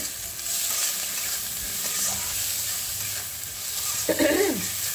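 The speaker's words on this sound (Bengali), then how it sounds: "পেঁয়াজটা হয়ে নিই ভাজা ভাজা" Sliced onions frying in a pan with a pinch of salt, for a Bengali katla fish curry: a steady, close sizzle with scraping stirs of a spatula, growing busier near the end.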